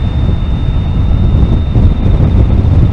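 Heavy, low rumbling wind buffets the microphone continuously at close range on a motorcycle ride in Germany's Palatinate, with a faint steady tone above it and no voices.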